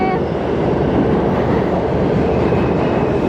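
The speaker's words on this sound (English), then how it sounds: "now we're waiting to catch the subway back to Jamaica." A New York subway train heading toward Jamaica roars loudly and steadily, a dense rumble of wheels and motors heard close up.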